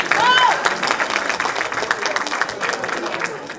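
Applause with some crowd noise and a few voices at a culture festival, a dense, steady wash of clapping that starts loud and eases slightly over a few seconds.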